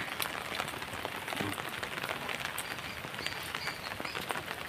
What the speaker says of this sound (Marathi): पावसाच्या रिमझिम धारा चालू आहेत।